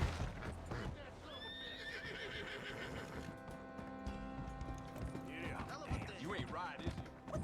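A horse in the Red Dead Redemption 2 video game lets out a loud, drawn-out whinny and gallops past with clip-clopping hooves, over busy in-game background noise and voices.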